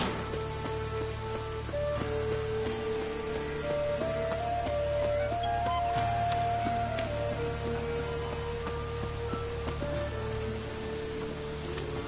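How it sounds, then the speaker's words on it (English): Rain falls steadily in a soft, even patter across a surface, with faint tonal sounds drifting in the background and no voices. "Looks like rain."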